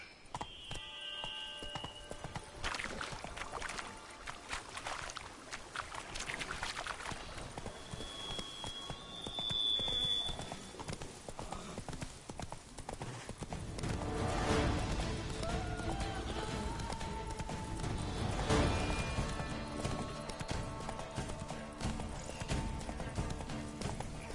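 Horse galloping in The Witcher 3, with a rapid clip-clop of hooves that grows heavier midway, a brief neigh, and occasional game sounds and a rider's voice at a moderate distance.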